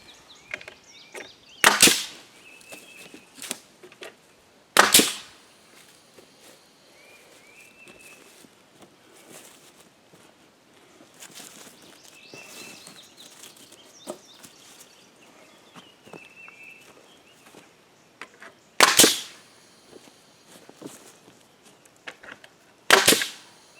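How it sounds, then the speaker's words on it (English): Nail gun driving nails into wood, a handful of sharp loud bangs spaced irregularly several seconds apart, with quieter knocks and shuffling in between and no talk. "It's still shooting them below the surface of the wood, so I don't know how many nails I've shot."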